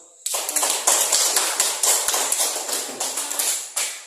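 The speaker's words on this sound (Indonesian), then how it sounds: "Ya, oke, kita aplaus." A class audience applauds after a student presentation, a burst of steady clapping that starts abruptly and runs for a few seconds.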